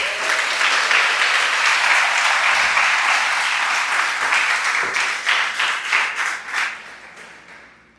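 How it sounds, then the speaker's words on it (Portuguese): A church congregation applauds in a dense, sustained roar of clapping that holds steady, then thins into separate, more distinct claps and fades away toward the end. "Um aplauso a Jesus."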